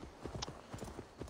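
Horse hooves clip-clop in a quick, even rhythm in Assassin's Creed Valhalla, a brief run of crisp hoofbeats.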